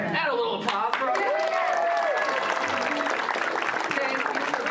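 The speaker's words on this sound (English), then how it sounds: "And a little applause for our" Congregation applause at a Sunday church service, a steady wash of clapping running the whole time beneath a voice and music, fairly loud and continuous.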